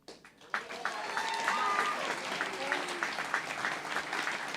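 Applause at an annual commencement ceremony rises after a short pause into steady, sustained clapping from a large crowd, moderately loud and even, with a voice faintly heard over it.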